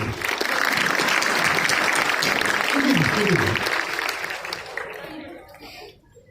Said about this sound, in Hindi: अशरफ भाई की ये तालियां हो जाए